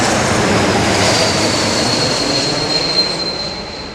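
A British Airways jet landing at Heathrow Airport, with a loud, broad roar of engines and rushing air, close and overhead, easing off toward the end, with a thin high whine running through it.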